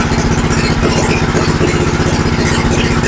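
A motorcycle engine is kick-started with the crank lever and settles into a steady, loud, close idle. The rapid low putter continues unbroken throughout, with no voices.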